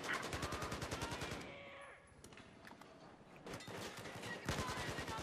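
Battlefield 4 gunfire: rapid automatic bursts up close, a brief lull with distant scattered shots, then heavy firing resumes, loud and dense.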